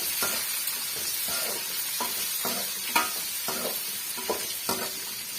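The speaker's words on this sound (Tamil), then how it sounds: "நல்லா வந்து வெங்காயத்தை வதக்கி விட்டுடலாம்" Chopped onion sautés in a pan for instant tomato rice, with a continuous sizzle broken by regular spatula stirs and scrapes close by.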